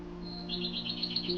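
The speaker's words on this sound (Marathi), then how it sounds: "मस्त पक्ष्यांचा किलबिलाट ऐकू येतोय" Faint high bird chirps repeat in quick succession over a low steady hum, soft and somewhat distant.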